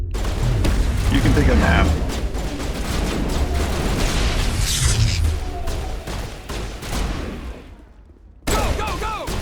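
Heavy gunfire and booming blasts during a Mass Effect video game fight, a dense sustained barrage that fades near the end before more shots, with a voice speaking briefly.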